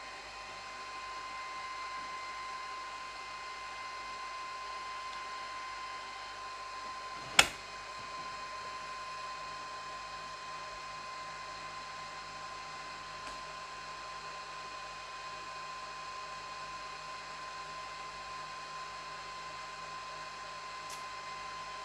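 A Cisco router's cooling fan runs while the unit boots, giving a steady whirring hum throughout with one sharp click partway through and no talking.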